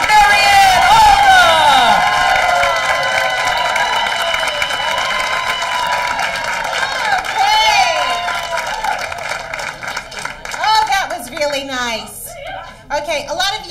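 A comedy club audience at Caroline's in New York applauding and cheering a comedian as she takes the stage, loud crowd noise mixed with music and a voice, tapering off toward the end.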